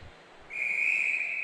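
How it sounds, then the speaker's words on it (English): A referee's whistle at a netball match sounds once in a single steady, shrill blast lasting about a second, clear and fairly close with no talk over it. "with that whistle, we have started play again"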